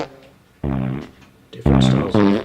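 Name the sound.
fart sound effects played from the Wavey app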